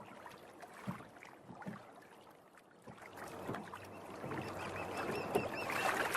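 Oars splash and creak as a small boat is rowed out onto a river in a cartoon, with soft water trickles and lapping that build from quiet strokes into steadier, louder movement across the water.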